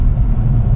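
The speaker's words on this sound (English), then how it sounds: "the exhaust sound of this car. Sounds exactly like an F1 car" BMW E63 M6 exhaust rumbling steadily up close, a deep continuous low-end drone with no break across the short stretch.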